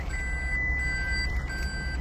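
A Toyota Prius Prime's parking sensors sound repeated high electronic warning beeps while reversing, evenly spaced tones over a low steady hum inside the car.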